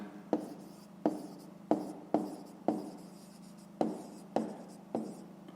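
A pen or pencil writes out a math solution by hand on paper, close up, with about ten short scratchy strokes in a fairly regular rhythm, each starting with a light tap.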